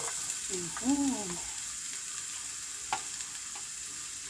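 Onions frying in hot palm oil give a steady low sizzle throughout, with a short hummed vocal sound early on and a couple of faint clicks.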